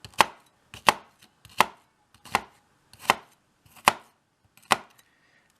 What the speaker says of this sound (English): I'll do multiple downward slices.